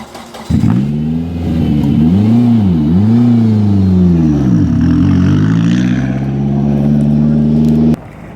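Rally car engine at the end of a special stage of the Olympus Rally, revving up and down in rising and falling sweeps before pulling away loudly and steadily, close by.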